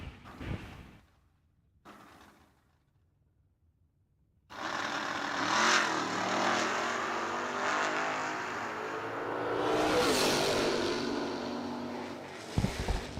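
A 1967 Chevrolet Camaro drag race car at a Cedar Falls drag strip, starting with brief idle bursts and gaps, then a sudden loud, sustained engine roar for about eight seconds that swells near the end before cutting off.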